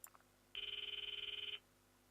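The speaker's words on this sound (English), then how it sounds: "I stop the video and call Mayuri's phone from my address." A phone call rings out in the visual novel game Steins;Gate, a steady electronic ringing tone with rapid pulsing that lasts about a second, clear and alone after a couple of faint clicks.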